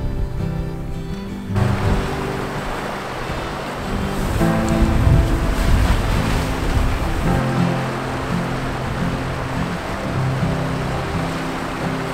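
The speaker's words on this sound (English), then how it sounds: "it's probably a little bit too windy to film today" Strong wind gusting at the water's edge during a trout fishing outing, a steady broadband roar mixed with surf-like wash, swelling louder through the middle and holding for the full stretch, with no talking.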